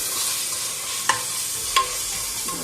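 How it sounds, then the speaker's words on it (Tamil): Mint and coriander sautéing in a pan for Chennai-style chicken biryani, a steady soft sizzle with two brief stirring clinks, no voices. "போட்டு நல்லா வதக்கணும்."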